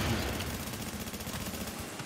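Rapid bursts of gunfire crackle continuously in a group PvP video game fight, dense and fairly loud with no pauses across the stretch.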